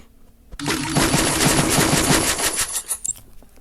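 Rapid automatic gunfire from the shooting game Free Fire plays as a loud sustained burst of evenly spaced shots for about two seconds, then fades into a few scattered clicks.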